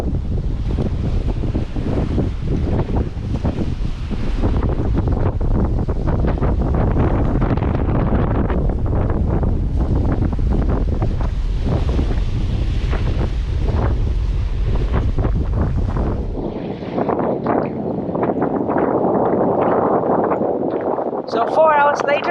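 Strong wind roars across the microphone aboard a sailing yacht on the Brazilian coast between Angra dos Reis and Porto Alegre, with waves and hull noise beneath; the rush stays loud throughout, shifting to a hissier wash near the end.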